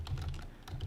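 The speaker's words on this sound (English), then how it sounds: "I won't make you sit through me typing the rest of them" Rapid clattering keystrokes on a computer keyboard, steady and close, entering names during a Skylanders Imaginators game setup, with a low background hum and no talking.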